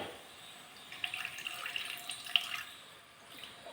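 Water poured into a cooking pan, a quarter glass added while preparing chicken 65, a soft, faint splashing trickle in a quiet kitchen.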